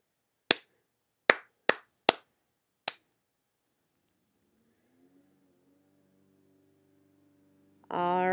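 Hands clapping a rhythm, five sharp close claps in an uneven pattern, followed by near silence, a faint low tone and then a loud rising noise at the end.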